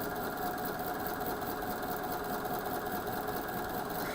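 A sewing machine runs continuously and close up, chain-piecing 60-degree quilt diamonds in one steady, even whir.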